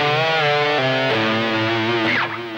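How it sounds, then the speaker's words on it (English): Electric guitar with a distorted tone plays a short descending run down the A blues scale, several sustained notes stepping lower one after another and ending in a bend, loud and alone. "now we're going to have a little run down the A blues scale"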